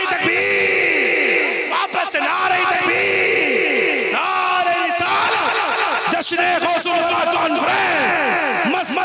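A large crowd at a naat gathering shouts the takbir slogan back in response, loud massed yelling and cheering in repeated waves that go on throughout.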